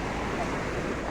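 Floodwater rushes through a village in a steady, unbroken roar of flowing water that fills the whole moment evenly, loud and close, with no voices over it.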